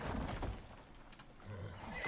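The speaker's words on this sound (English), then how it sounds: "The barn is being attacked by a horse." A horse in the video game Icarus neighs and whinnies, a muffled, fairly faint cry over low rumbling game ambience.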